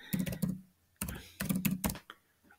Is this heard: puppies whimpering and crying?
no